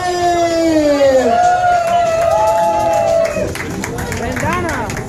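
A nightclub crowd cheers and yells as a performer is welcomed. Loud, continuous whooping and shouting rises under an amplified announcer's voice and pulsing club music.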